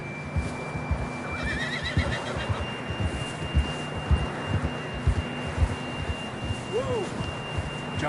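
A horse neighs in a video game, a clear whinny rising over steady hoofbeats and ambient game sound, with a fainter whinny heard earlier.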